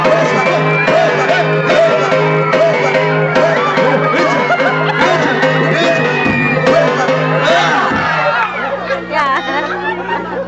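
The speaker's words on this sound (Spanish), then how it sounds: "¡Con gritos! ¡Grite todos!" Audience at a clown show shouting and cheering together, a loud, dense crowd roar that runs the whole time with music underneath and eases off near the end.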